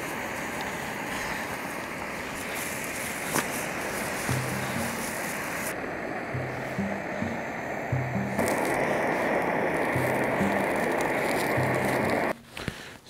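An MSR XGK liquid-fuel camping stove burns with a loud, steady jet-like roar that holds throughout, briefly easing partway through before surging again.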